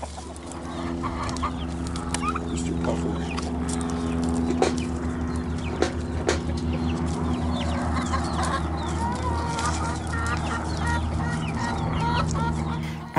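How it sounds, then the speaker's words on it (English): Domestic turkeys and other fowl call and cluck on an Arizona ranch, a busy continuous chorus of close gobbles and clucks over a steady background hum. "He's a very good turkey."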